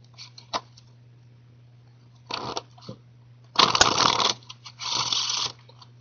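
A deck of playing cards is shuffled for a card trick, with short riffling, fluttering bursts, the longest two near the end, close up over a low steady hum and with no talk.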